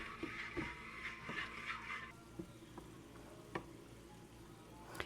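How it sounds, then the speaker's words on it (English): A spoon scrapes through thickening lemon meringue pie filling in a pan, with a soft bubbling sizzle underneath and scattered light taps and scrapes, fairly quiet and close. "And you just stir this until it thickens up."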